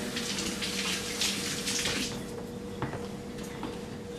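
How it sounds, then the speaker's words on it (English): Tap water runs steadily as hands are washed at a kitchen sink, a broad continuous splash with a few small knocks and clatters near the end. "Let me wash my hands."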